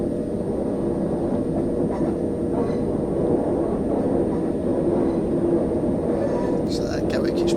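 A train rolling through London in Train Sim 2020 on the Victoria to Brighton route, a loud continuous low rumble with faint rail clicks, with light rattles near the end.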